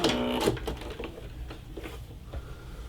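A Brother SE625 sewing machine raises its needle and cuts the thread with a short whir and click, followed by faint mechanical ticking.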